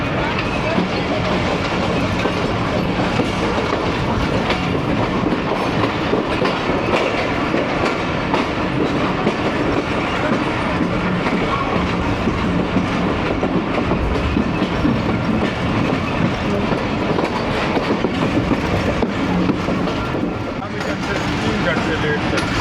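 Awam Express passenger train running between Lahore and Peshawar, with steady loud rumble and rhythmic clickety-clack of wheels over rail joints throughout, heard from inside the carriage with faint voices underneath.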